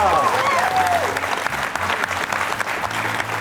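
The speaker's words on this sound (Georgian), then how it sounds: "აპლოდისმენტები მეგობრებო" A studio audience applauds a quiz semifinal result in which Brazil wins 27-18 and advances to the final. The clapping is loud, dense and sustained, with a voice briefly audible over it.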